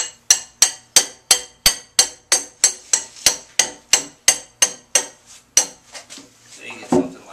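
Half-inch-thick rebar, 16 inches long, is hammered into holes with about eighteen sharp, ringing metallic blows in a fast, steady rhythm, close and loud, slowing and fading at the end.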